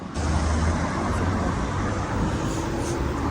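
Cars drive past on a road, making a steady broad rumble of traffic that holds at an even level from start to finish without any voices.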